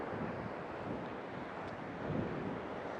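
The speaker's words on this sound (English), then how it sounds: "Look at this lovely little waterway, and the way the water's spilling over this." Seawater spills over coastal rocks through a small waterway, heard as a faint, continuous wash of surf with wind buffeting the microphone.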